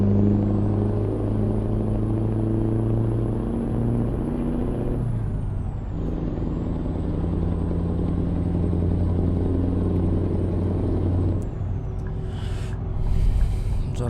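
A Scania R730 truck drives in Euro Truck Simulator 2, its deep engine rumbling steadily and loud, with pitch shifts through gear changes and a brief air-brake hiss near the end.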